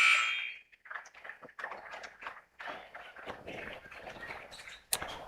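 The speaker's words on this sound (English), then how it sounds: "that's going to be the final buzzer" Final buzzer at a girls' high school basketball game sounds loud but briefly at the very start, followed by crowd noise and scattered gym sounds.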